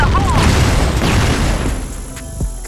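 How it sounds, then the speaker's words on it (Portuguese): Grenade blast in Call of Duty while using the M4A1-Cyborg, a loud booming burst with debris crackle, followed by more gunfire pops and a player shouting over it. "Granada!"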